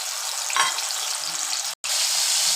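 Ground tomato paste hitting hot oil with nigella seeds in a pan, a loud continuous sizzle and crackle with a short stir near the start and a brief cut near the end.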